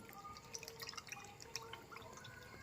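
Liquid chili spray drips as it filters through a strainer, a quiet run of small, irregular droplet plinks close by, with no talking.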